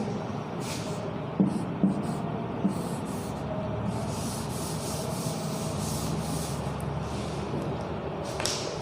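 An eraser rubs out a pencil drawing on a paper page with a steady, continuous scratchy scrubbing, close and fairly loud, broken by a few light taps early on.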